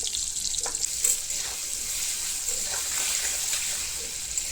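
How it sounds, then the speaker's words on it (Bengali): Fenugreek seeds fry in hot oil for a vegetarian Bengali dish, giving a steady bright sizzle throughout with faint stirring clinks and scrapes, close and alone without any talk. "এই যে দেখবেন মেথিটা এই যে দেখছি জলেনি কিন্তু একদম কাঁচা কাঁচায় মানে খুব সুন্দর ভাজা হয়েছে"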